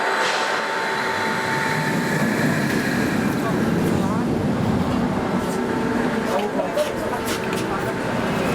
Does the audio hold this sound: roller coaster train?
yes